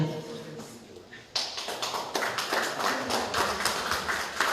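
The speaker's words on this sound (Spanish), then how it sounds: "Gracias, un fuerte aplauso." At the opening of a writers' gathering, an audience breaks into applause after a keynote lecture: a quiet murmur, then a sudden swell of many hands clapping steadily until the end.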